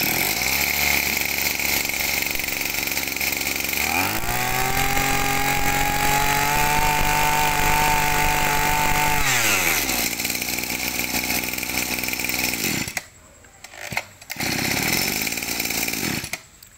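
A Japanese Robin brush cutter with a 23cc engine and its original fuel tank runs steadily, a loud, buzzing two-stroke drone that drops to a lower idle for a few seconds, revs back up, then sputters briefly near the end.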